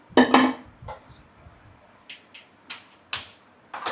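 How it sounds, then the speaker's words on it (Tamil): A gas stove is lit under a pressure cooker of mutton biryani: a string of sharp metallic clicks and clatters, spaced irregularly, close by and otherwise quiet. "இந்த பக்கம் அடுப்பை பற்ற வச்சுக்கலாம்."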